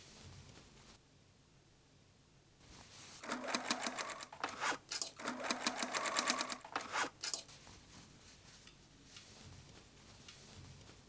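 A sewing machine stitches old umbrella fabric side strips onto a main backpack panel, running in several quick bursts of rapid stitching with short pauses, close and clear in an otherwise quiet room.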